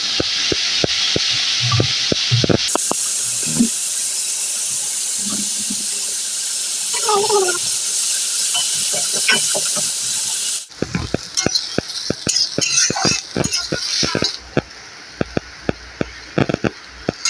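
Bitter gourd and potatoes fry in a pan with a loud, steady sizzling hiss that later breaks into busier crackling and clattering of utensils.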